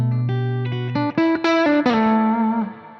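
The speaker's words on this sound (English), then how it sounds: "when I play with the fingers, I can really" A 1958 Gibson Flying-V electric guitar plucked with the fingers, a run of single bright, chimey notes stepping upward and ringing out with sustain, played clean and close with no talking.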